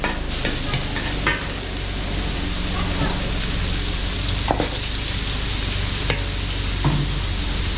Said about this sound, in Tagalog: gigisa na rin natin yung pansit. Bawang.